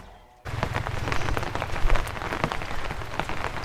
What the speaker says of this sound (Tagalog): Ay, piho, malakas ang ulan sa bayan